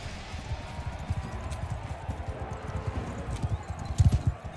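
Video game horse hooves in Mount & Blade 2: Bannerlord clip-clop at a steady trot, the rhythmic clatter continuing over a soft background hum and growing heavier near the end.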